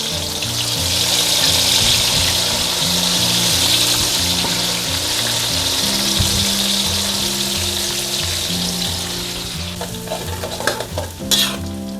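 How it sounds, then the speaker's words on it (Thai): Enoki mushrooms deep frying in hot oil over medium heat, a loud, dense, continuous bubbling sizzle that holds steady, then ends in a few sharp crackles and knocks. "ทอดจนเหลืองกรอบเลยค่ะ"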